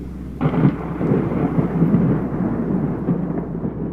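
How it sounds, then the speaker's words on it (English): Violent rain-wrapped tornado tearing through Pleasant Grove during the April 27, 2011 Southeast outbreak: a loud, continuous roar of wind and heavy rain with rumbling thunder, no voices. "record the violent rain-wrapped tornado as it tears through Pleasant Grove"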